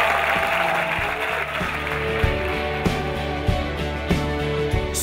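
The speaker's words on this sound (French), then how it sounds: "J'aimerais qu'on leur donne une grande main d'applaudissements aux finalistes de ce soir!" An audience applauds the finalists of an evening showcase for emerging musicians, steady clapping throughout with musical tones underneath and a few louder claps standing out.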